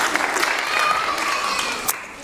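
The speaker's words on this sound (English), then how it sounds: "let's give them a round of applause" A church congregation at a Sunday service gives a round of applause, a fairly even patter of clapping mixed with a few background voices and light crowd murmur.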